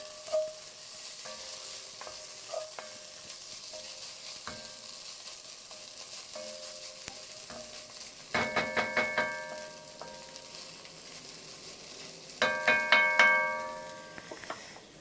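Garlic being stirred into a roux with vegetables in a pan: a low continuous sizzle with light scrapes, then two bursts of rapid metallic spoon clinks against the pan, no talking.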